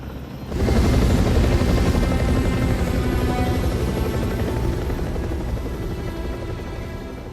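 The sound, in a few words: helicopters arriving, in a film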